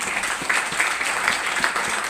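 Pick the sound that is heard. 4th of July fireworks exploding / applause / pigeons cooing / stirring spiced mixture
applause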